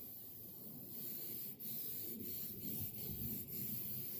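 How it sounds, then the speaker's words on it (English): Hairspray sprayed from a can over model turf, a steady close hiss with several brief pauses between bursts and no talking. "I just used hairspray to attach that"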